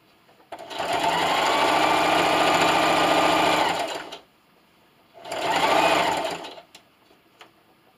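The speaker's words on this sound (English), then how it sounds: "Alright guys, so I sewed my seam all the way down." A sewing machine runs a pillowcase seam with a 1/4 inch seam allowance, first in a steady run of about three and a half seconds, then in a shorter burst after a pause, loud and close with no speech.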